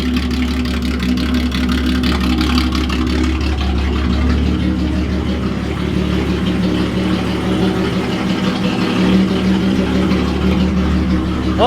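Datsun engine idling cold just after startup with no muffler fitted, a loud, steady rumbling drone with a gruff low throb that holds evenly throughout.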